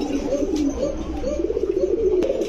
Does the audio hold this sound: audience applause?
no